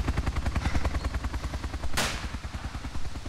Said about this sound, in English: Is that you firing?